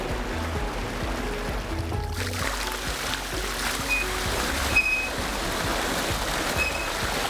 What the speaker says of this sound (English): the farmers pull the boards on those water control structures and drain off those